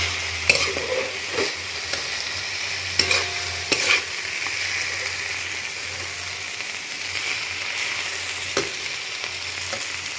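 A bitter gourd and coconut curry with tomato and oil is stirred in a pan, producing a soft continuous sizzle with a few sharp spoon scrapes and knocks against the metal, heard close without speech.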